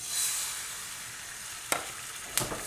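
Eggs fry in melted butter in a red granite pan, giving a soft continuous sizzle with two brief sharp scraping strokes near the end, no talking.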